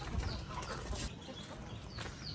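Hens cluck softly in a coop during stormy weather, their short calls faint beneath steady wind-like background noise.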